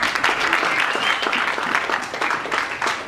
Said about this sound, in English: Clap for that Zambia.